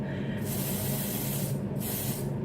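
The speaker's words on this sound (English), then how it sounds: "I am gonna try spraying this directly on my face" Dior Airflash spray foundation hisses from its can in two close bursts, a broad steady spray breaking off briefly before the second blast.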